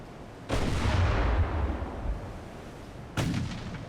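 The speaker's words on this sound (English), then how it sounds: "we still got 8-inch guns firing" Two heavy booming blasts of 8-inch naval guns firing in a warship battle game, the first with a long rumbling decay, the second following about three seconds later.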